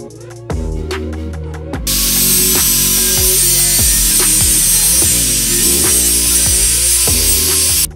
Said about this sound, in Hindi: तो गाइस, फाइनली यहाँ पर एंगल हमारे कट हो चुकी है